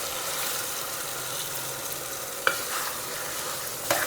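Prawns frying in a pan give a continuous hissing sizzle, with a couple of sharp scrapes as they are stirred, close by and with no talking.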